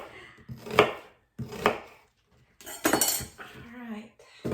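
Sweet onions, about two pounds, chopped on a board for chow chow relish: a few bursts of knife strokes between pauses, close and moderately loud, with a voice speaking over part of it.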